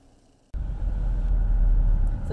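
A car drives along at steady speed, its low engine rumble and road noise starting abruptly and holding loud and continuous inside the cabin.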